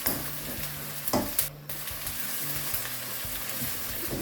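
Aubergine and potato curry sizzles while frying, and a spoon knocks and scrapes the pan in a few distinct strokes over a steady bubbling hiss.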